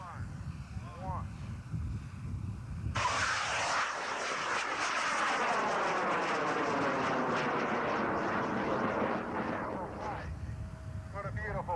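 Large high-power rocket at a big launch event in Argonia, Kansas, igniting with a sudden loud crackling roar that fades slowly as it climbs away, with people talking faintly.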